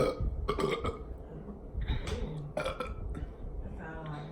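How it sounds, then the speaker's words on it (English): Someone lets out a long, rumbling burp right after chugging a bottle of Sprite, close and throaty, with a few voices chattering around it. "That sounds like more than a burp."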